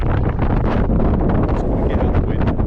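Strong wind blows in the Scottish Highlands near Fort William. It roars steadily and loudly, buffeting the microphone without a break.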